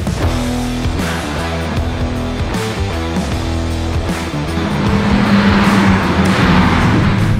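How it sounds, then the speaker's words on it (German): Car engines running on a race track, loud and close with a steady droning roar that builds toward the end, no talk over it. "Ja, die Motoren gehen schon an."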